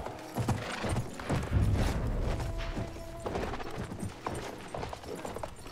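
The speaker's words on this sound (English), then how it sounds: "Stop, you stupid horse." Horse hooves clip-clop at a brisk gait in the Battlefield 1 World War I shooter, faint and steady, mixed with clanking gear and battle noise, with no talk.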